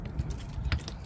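A bunch of keys jangles close up while an RV side compartment is being locked, a brief metallic rattle over low background rumble.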